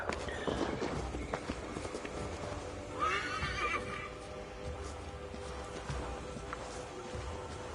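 A horse in Assassin's Creed Valhalla whinnies loudly over a dense, busy background of hoofbeats and rumbling noise, the neigh rising clearly around the middle.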